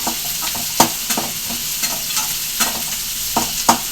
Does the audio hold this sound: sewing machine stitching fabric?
no